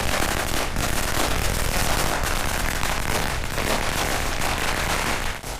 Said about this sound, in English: Here they just set off a whole box of fireworks